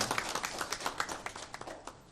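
A church congregation at a Sunday service claps in a dense, even round of applause, many hands at moderate distance with faint individual sharper claps standing out, continuing steadily throughout.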